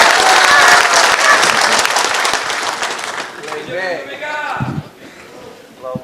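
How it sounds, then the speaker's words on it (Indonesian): Loud applause from an audience at a political party meeting fills the first few seconds, then fades as a voice begins speaking over the dying claps. "tepuk tangan saja kayak ragu-ragu"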